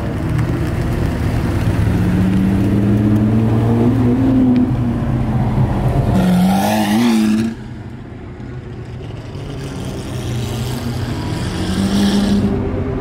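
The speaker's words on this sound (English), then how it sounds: "F12N Largo that I just started up, probably going on the track" Ferrari F12 N Largo engine started up in Dubai, a loud, close, deep roar with rising revs, then a sudden drop to a quieter idle before climbing again, with no talk over it.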